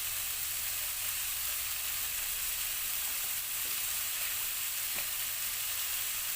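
Butter sizzling and frying in a pan while cooking Indian butter chicken, a steady soft hiss running throughout with no talk.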